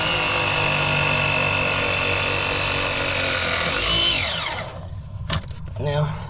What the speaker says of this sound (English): I'm gonna do one side with these beautiful, beautiful rigid jaws